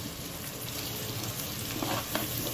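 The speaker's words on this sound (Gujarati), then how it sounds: "જેવું જ જીરું એમાં તતડી જાય આપણે થોડી હિંગ નાખીશું" Cumin seeds crackling and sizzling in hot oil, a dense steady hiss with small pops and a few louder crackles toward the end, fairly quiet and without voices.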